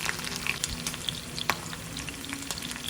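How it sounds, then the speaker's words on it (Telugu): Onion, curry leaves and green chillies fry in oil, a dense steady crackle and sizzle with a few spitting pops and light stirring, close and alone without speech. "కొంచెం ఒక ఆనియన్, కరివేపాకు, పచ్చిమిర్చి వేసి ఫ్రై చేసుకోవాలి"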